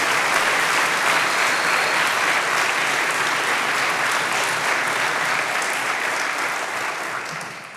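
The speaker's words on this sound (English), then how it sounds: "just give these two a round of applause again" Sustained audience applause fills a chapel talk at Wabash College, a dense, steady wash of clapping from a large crowd that holds strong before tapering slightly at the end.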